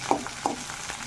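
Green chillies fry in a pan with a soft, steady hiss and two brief stirring scrapes, close by and with no voice.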